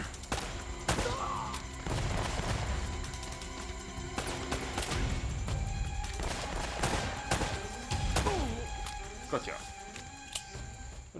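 Gunfire in the video game Uncharted: Drake's Fortune Remastered, with sharp repeated shots and bursts scattered irregularly across the scene, some close and loud, mixed with game effects.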